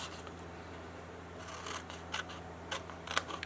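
Scissors trim a strip of cardstock for a handmade paper bag, a faint, close snipping and rasping with a few sharp cuts clustered toward the end.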